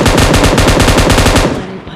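M249 light machine gun firing in a video game, one loud close sustained burst of rapid, evenly spaced shots lasting about a second and a half before cutting off and fading.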